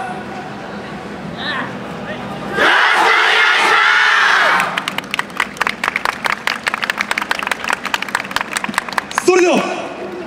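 A loud crowd cheers for the Kindai University Senshin yosakoi team at the Anotsu Yosakoi 2019 final stage during the Tsu festival: a roaring burst of shouts, then rapid rhythmic clapping and calls that swell again near the end.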